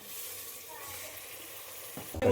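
Mutton and tomato frying in a pan, a soft, steady sizzle with light stirring that ends in a short clatter, heard close and quiet.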